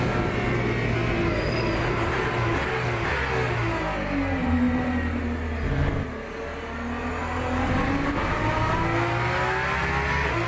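Engine of a Valkyrie hypercar revving hard in a racing video game, a loud continuous high-pitched roar with rising and falling pitch as it accelerates and shifts, steady throughout with no talking.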